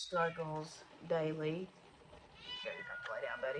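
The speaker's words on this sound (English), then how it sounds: "excuse my cat who wants to go outside" A pet cat meows insistently to be let outside, several drawn-out, fairly loud cries near the microphone, mixed with someone talking calmly.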